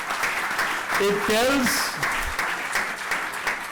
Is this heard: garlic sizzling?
no